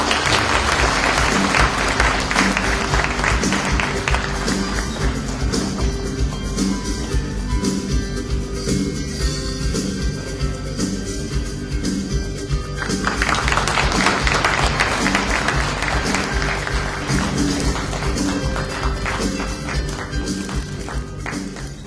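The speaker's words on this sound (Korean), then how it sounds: "큰 박수로 모시겠습니다" A ceremony crowd in Daegu applauds a speaker's arrival at an LED-IT industry vision proclamation event, long, dense, steady clapping from many hands that swells again partway through and continues for over twenty seconds.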